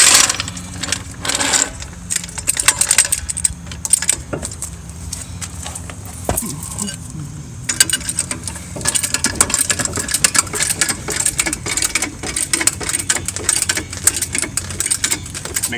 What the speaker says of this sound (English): And you jack it up along the pinch weld here.